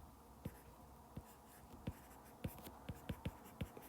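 A mathematical proof is written out by hand. Close, faint pen strokes give soft scratches and a string of small, irregular taps, with no talking.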